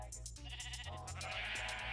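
Minecraft sheep bleat over a steady background game drone, a short wavering cry followed by a longer one.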